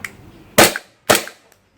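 An E&C Glock 19 Gen5 gas blowback airsoft pistol fires two sharp, close pops about half a second apart, followed by a faint click, with nothing else around them.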